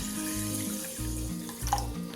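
Water pours into a pressure cooker holding green gram and salt, a soft, continuous splashing stream with low, steady background music underneath.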